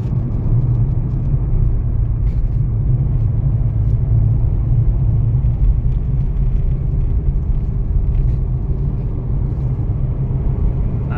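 Short-nose van driving along a road between Tagum City and Mawab, a steady loud low engine rumble and road drone from inside the cabin, with faint intermittent rattles.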